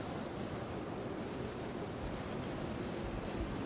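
Rainfall in the video game Planet Explorers, a soft, even wash of noise with a low rumble underneath, steady and fairly quiet with no voices.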